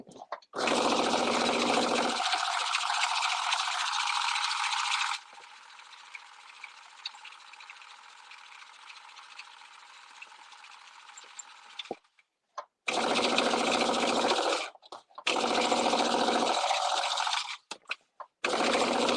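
A home sewing machine stitches a quick seam in a few steady whirring bursts, one long and several shorter, separated by pauses with a faint low hum.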